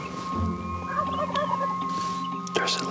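Gould's turkey gobblers gobble from a distance in the Mexican outdoors, several rattling calls over a layer of birdsong and a low steady hum, moderately faint.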